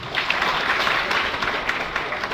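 Audience applause at a Gujarati career guidance and inspiration event, a dense steady round of clapping from a crowd lasting throughout without talk.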